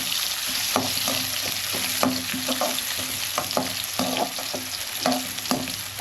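Chopped onion sautés in hot oil with whole spices, including a bay leaf, cloves and star anise, for a chicken gravy; a constant loud sizzle runs through it, with regular scrapes and taps of a spoon stirring the pan.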